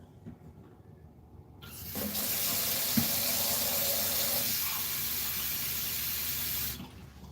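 A kitchen tap runs into a glass, a steady close hiss of flowing water lasting about five seconds before it cuts off, with no talking over it.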